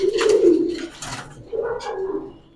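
Pigeons at a farm selling high-flyer breeds coo from cages, with two close, throaty, rolling coos in sequence and no voices over them.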